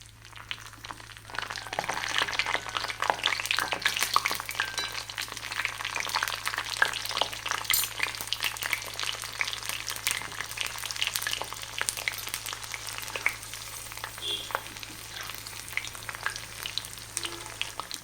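Banana stem pieces fry in hot oil with a steady, dense crackling sizzle that stays loud and continuous throughout, with no voices.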